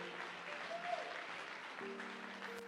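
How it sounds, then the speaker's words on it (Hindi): Audience applause at a Kangen Water team event, a steady wash of clapping filling the hall throughout with faint background tones. "आप सब लोग खड़े होके उनके लिए जबरदस्त तालियां दीजिए"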